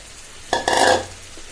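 Spiced loitta fish hits hot oil with fried onion, garlic and green chilli, bursting into a short loud sizzle with a stirring scrape that fades within half a second.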